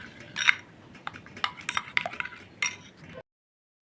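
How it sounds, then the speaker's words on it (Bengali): A spoon scrapes and clinks against a bowl while besan laddoo mixture is mixed: irregular close taps and scrapes at moderate volume, ending in a short silence. "এখন এটা ভালো করে মিশিয়ে নিতে হবে"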